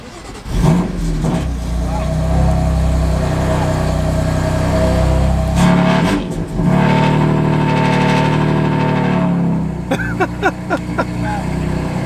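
A BMW M3 engine cold start: a loud, close exhaust roar with rising and falling rev surges that settle into a steady, deep, throbbing idle before a final burst of revving.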